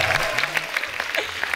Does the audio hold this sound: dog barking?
no